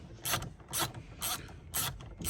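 A hand ratchet clicks in four short bursts while loosening the center bolt of a car steering wheel during an LED steering wheel installation, close and fairly quiet.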